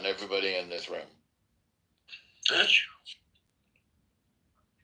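A single sharp sneeze from a person nearby, arriving a moment after a short stretch of speech and followed by quiet.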